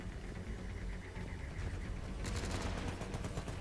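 Gunfire in the video game Mass Effect 3, rapid bursts of shots at moderate level over a busy game soundscape, becoming denser and sharper in the second half.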